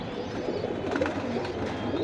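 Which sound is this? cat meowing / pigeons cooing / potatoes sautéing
pigeons cooing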